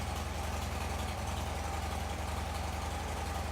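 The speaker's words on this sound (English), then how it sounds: "that's the factory exhaust on the bike" A Harley-Davidson Dyna Wide Glide idles through its stock factory exhaust, a close, steady low rumble with an even loping pulse throughout.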